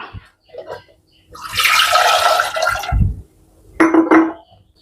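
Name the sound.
water poured into pressure cooker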